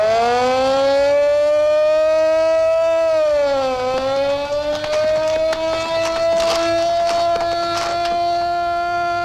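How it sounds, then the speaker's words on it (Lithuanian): A loud siren wails steadily with a rich, harmonic tone, dipping in pitch once near the middle before holding a high, sustained note. Faint clatter sounds underneath, with no talking. "Išjunkit sireną!"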